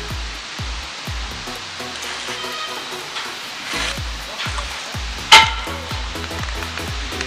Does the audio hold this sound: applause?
no